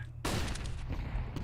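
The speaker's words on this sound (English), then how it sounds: "Grenade out." A grenade explodes in a shooter video game with one sudden loud blast that rolls into a sustained rumbling tail.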